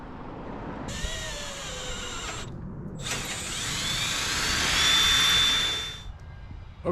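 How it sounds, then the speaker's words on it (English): A power drill bores through the hood of a 1956 Willys Wagon in two bursts, a short whining spin followed by a longer, louder grinding run that swells and fades, with no talk. "Then I'm gonna drill it about 5 times, all in the wrong spot"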